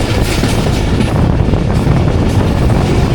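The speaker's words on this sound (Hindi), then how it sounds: "एक ट्रेन भी आ रही है जी हमारे पास।" A freight train rolls close by, a loud, steady rumble of wheels and cars filling the whole stretch without a break, heard from aboard a moving passenger train near Karachi–Rohri.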